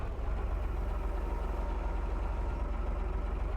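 Tractor engine in Farming Simulator 22 running at a steady idle, a continuous low throbbing rumble with even pulsing and no other sounds.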